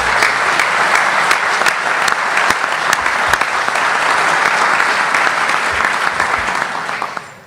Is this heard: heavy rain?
no